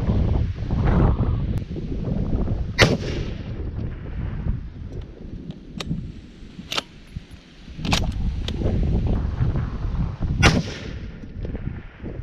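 A Remington 700 PCR rifle chambered in 6.5 Creedmoor fires at long-range practice outdoors, with several sharp, fairly distant cracks spaced a second or more apart over a constant rumble of wind.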